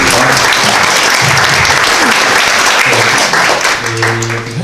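Applause fills a Korean policy forum on animation as the audience claps steadily and densely, a loud continuous wash with a voice speaking over it near the end.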